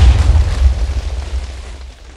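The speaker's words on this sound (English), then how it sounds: "he was blown up into pieces by someone's ability or trap" A loud, deep boom in a Minecraft game, a player blown apart by an ability or trap, with a heavy low rumble that rolls on and slowly fades over about two seconds.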